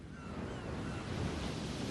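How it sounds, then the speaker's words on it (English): Ocean surf breaking steadily on a shore at night, a continuous broad wash of waves with wind, loud and close throughout with no talking. "At night, the sound of the waves lulled her to sleep."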